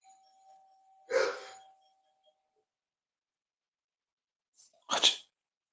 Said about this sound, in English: she won't ring my damn doorbell.